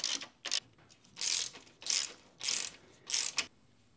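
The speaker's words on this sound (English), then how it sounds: "So we'll tighten this back bolt where it hinges just to give a little friction" A ratchet wrench tightens the back hinge bolt with five or six close, crisp bursts of rapid clicking, each lasting about a quarter to half a second, separated by short pauses.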